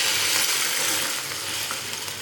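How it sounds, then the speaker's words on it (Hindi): Milk goes into a hot pan of vermicelli roasted in ghee, setting off a loud, continuous hiss and sizzle that eases slightly partway through, close up with no talking. "अब हम इसमें डाल देंगे दूध"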